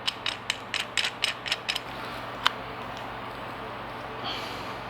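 Metal clicks and taps ring out as a nut and washer go onto the saw arbor of a Shopsmith in a woodworking shop, a brief flurry of sharp clinks over a steady motor hum.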